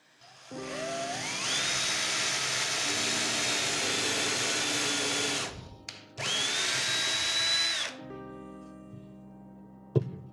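A Makita power drill with a DeWALT bit bores a hole, whining up to speed and holding a steady high-pitched drone, stopping briefly, then running again before a sharp click at the end.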